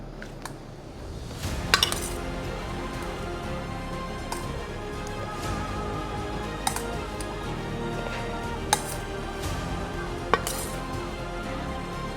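Salt and pepper chicken wings are tossed in barbecue sauce inside a bowl, giving steady wet clinks and scrapes with a few sharper knocks against the bowl and no talk.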